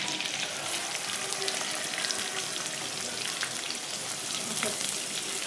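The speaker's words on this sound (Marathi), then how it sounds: "कढीपत्ता टाकला ना कांदा टाकून देते." Onion and curry leaves fry in a pan with a steady, dense sizzle and crackle that continues without a break, up close and moderately loud, with occasional light stirring clicks.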